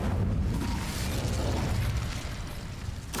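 An Incendio fire spell cast in Hogwarts Legacy bursts out as a loud, continuous fiery roar with a heavy low-end rumble, sustained for about three seconds before a brief crackling flare near the end; no voices.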